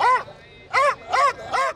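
Dogs barking at a dog show held on a hockey ground in Multan, with breeds such as German Shepherds, Rottweilers and Huskies present; four short, close, loud yelping barks in an uneven rhythm, alone without talk.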